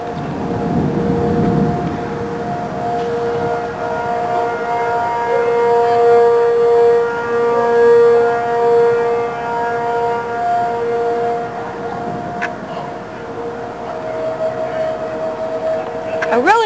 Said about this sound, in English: as you hear the siren